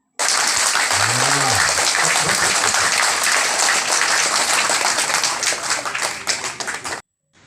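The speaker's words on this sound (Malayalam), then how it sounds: "കൈയടിക്കാൻ കിട്ടുന്ന ഒരു ചാൻസും വെറുതെ കളയരുത്" A crowd of women claps hands together at a Karkidakam leafy-greens gathering, dense loud applause lasting several seconds before cutting off sharply, with a brief voice underneath early on.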